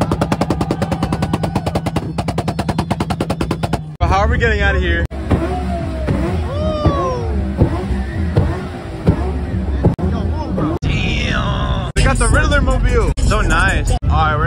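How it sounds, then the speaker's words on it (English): Cars do burnouts at a crowded car meet: rapid-fire popping exhaust bursts give way to loud revving engines and squealing, wavering tire howls, with sharp bangs and crowd noise throughout and people talking. "There's still burnouts happening left and right"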